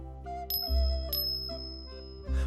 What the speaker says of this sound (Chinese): 他摇了一下铃铛